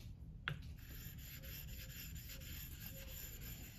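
A small natural nagura is rubbed across an Arkansas sharpening stone in quiet, close, continuous scrubbing strokes, with a brief knock near the start and no speech.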